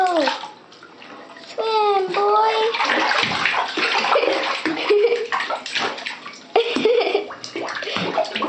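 Chihuahua puppy swimming in a bathtub, water sloshing and splashing up close while people talk, with a few high squeaky whines in between.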